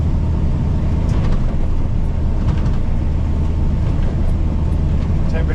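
A 1977 Toyota Land Cruiser FJ40 engine hums steadily from inside the cab while driving at about 35 mph near 1200 rpm, a continuous loud low rumble with road and wind noise and no talking.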